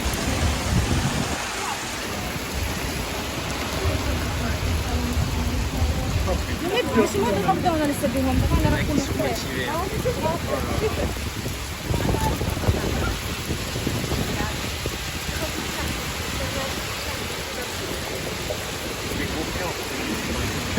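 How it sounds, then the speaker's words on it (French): Steady heavy rain falling on a Budapest street in August, a dense continuous wash of drops close by, with voices talking over it at times. "Donc là, il pleut pas mal, j'avoue."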